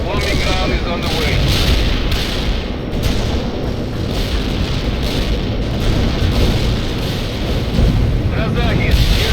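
Air bombing run in the World in Conflict game, a continuous rumbling barrage of overlapping explosions and booming impacts, loud and dense throughout with voice chatter mixed in.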